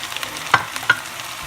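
Peppers and onions for a homemade chicken stew hit a hot pot with a soft, steady sizzle, broken by two sharp clatters as the vegetables are added and stirred; no one speaks.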